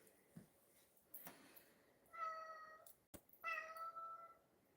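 A pet cat meows several times indoors at moderate volume, each call drawn out and tonal, with short pauses between them and no talking.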